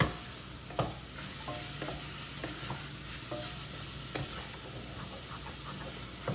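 Sausage browns in a pan, a low steady sizzle with occasional spoon taps and stirring clicks, close but fairly quiet and without talking.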